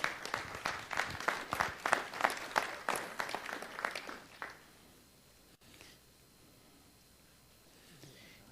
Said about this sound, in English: Let's give these ladies a round of applause as they come.